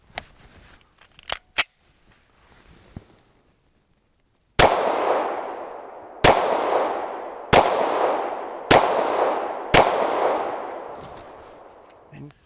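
Glock 23 pistol fired at a shooting range: five sharp, loud shots spaced about a second and a half apart, each with a ringing decay, after a few quiet clicks and handling noises.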